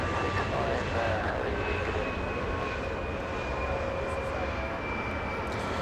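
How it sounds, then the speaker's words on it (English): SkyWest passenger jet arriving at Los Angeles International Airport from Sacramento, a steady broadband engine roar holding at moderate loudness throughout, with a faint whine gliding across it. "We're gonna have an arrival, pardon me. SkyWest 3658 flying in from Sacramento, California."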